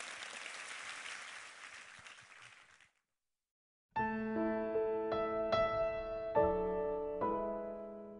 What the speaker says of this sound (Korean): 우리 하나님께 한번 감사와 영광의 박수 올려드리겠습니다.